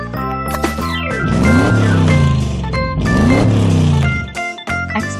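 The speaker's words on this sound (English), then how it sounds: "Motorcycle." A motorcycle engine revs loudly and up close in repeated rising and falling sweeps, with a brief dip near the end before picking up again. No voices are heard.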